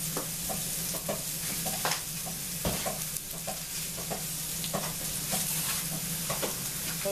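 Pork chops seasoned with Italian spices sizzle steadily in a pan, a close, continuous frying hiss broken by scattered pops and crackles with no talk.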